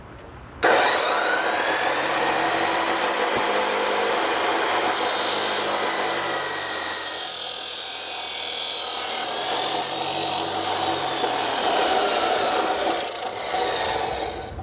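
A saw cuts a piece of an exterior RV ladder down to size, a loud, continuous rasping drone that runs almost unbroken for about fourteen seconds after a sudden start, with no voices.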